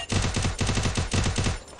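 Rapid bursts of automatic gunfire from the battle-royale video game Free Fire, loud and close, firing in several clustered volleys with brief gaps between them and no talk over them.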